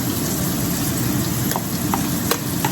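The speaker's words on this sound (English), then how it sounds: "We want to saute the onions. Again, we're over medium heat." Onions sautéing in olive oil in a pan over medium heat, a steady close sizzle and crackle with a few faint stirring clicks, no talking.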